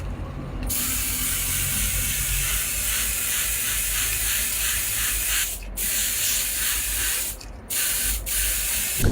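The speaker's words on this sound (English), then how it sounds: "Then the car body was spray painted with even strokes," An RC car body modelled on the Audi 100 Coupe S is spray painted in even strokes, with a loud, steady, close hiss that runs almost unbroken, dropping out briefly a few times between strokes.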